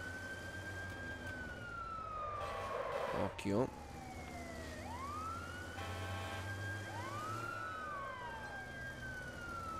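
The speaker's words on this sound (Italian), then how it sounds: "che cazzutaggine il camion dei pompieri" A fire truck siren in the video game Watch Dogs wails in long rising and falling sweeps throughout, loud and close over vehicle rumble, with a brief crash midway and someone talking.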